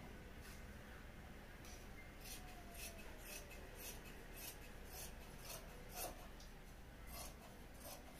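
Scissors cutting fabric for a pathani Patiala pattern, giving soft repeated snips and rasping slides through cloth at an irregular pace, faint and close against a low steady hiss.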